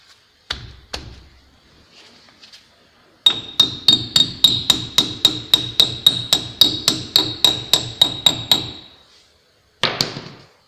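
Steady rhythmic hammer blows seating the metal cap on the rear brake of a Suzuki Splash, about twenty loud ringing metallic strikes in a row, with a few scattered knocks before and after.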